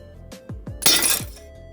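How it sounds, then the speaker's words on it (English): Glass shatters in a loud, bright burst lasting about a third of a second, struck by a projectile from an upgraded homemade coilgun. A few sharp clicks and thumps come just before it, and there is no talk. "So the upgraded coil gun broke glass."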